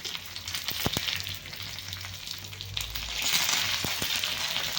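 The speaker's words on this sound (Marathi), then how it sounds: "थोडंसं लसूण वगैरे आपल्याला चांगला लाल करून घ्यायचं आहे" Garlic and fresh curry leaves fry in hot oil for a tempering on a raw mango and mint chutney, a steady close sizzle with a few sharp crackles and pops, growing slightly louder toward the end.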